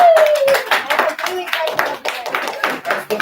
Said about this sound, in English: Y'all give Neil a round of applause